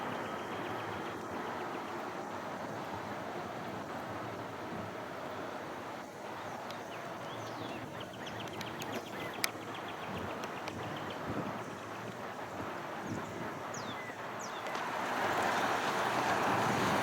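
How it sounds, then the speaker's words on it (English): Strong Texas wind blows outdoors beside a rose garden at a presidential library entrance, a steady rushing gust noise that buffets the microphone and swells louder near the end, with faint background sounds and no speech. "Good old Texas wind is really blowing here outside the entrance to the George H.W. Bush Presidential Library."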